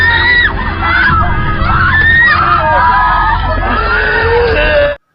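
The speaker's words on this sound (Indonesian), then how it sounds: "hingga akhirnya mereka berteriak kesakitan" Several people in a film scene scream and yell in pain after acid is thrown in their faces, a dense, loud, continuous burst of overlapping shrill cries that cuts off abruptly.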